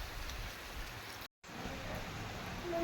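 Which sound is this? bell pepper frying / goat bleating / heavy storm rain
heavy storm rain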